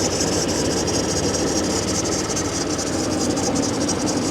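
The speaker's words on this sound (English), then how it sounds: "It's a belt squeal." A 2020 Ford Expedition with the 3.5 twin-turbo engine runs at a cold-start idle, its belt giving a steady squeal over a dense, continuous mechanical rattle and hum, close and loud throughout.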